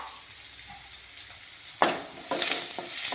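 Chili powder masala frying in a pan for a rice dish, a soft sizzle that swells suddenly as it is stirred, with scraping and light utensil clinks, close and moderately loud.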